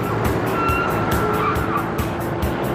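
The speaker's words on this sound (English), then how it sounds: "8-cylinder engines throb" V8 off-road race trucks at the Prim desert race in the Mojave roar loud and steady, with rhythmic throbbing pulses and a whining, tire-scrubbing edge that carries on without a break.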